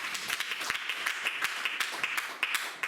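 Church congregation applauding during a Sunday service, a steady crackle of many hands clapping with sharper individual claps standing out, moderately loud and continuous throughout.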